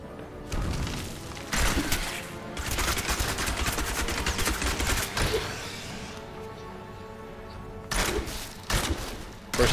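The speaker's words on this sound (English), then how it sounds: "the downside to using this rapid fire is, of course, the fact that you have to stand still while you're channeling" Demon Hunter's channeled rapid fire skill in Diablo 3, heard as loud sustained bursts of rapid rattling shots that stop and restart several times, with brief quieter gaps between volleys.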